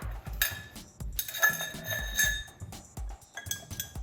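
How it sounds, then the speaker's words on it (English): Ice cubes for a Corona mojito drop into a glass in a few separate clinks with bright ringing chimes. Short clatters recur over about four seconds with no talk. "Grab up some ice cubes."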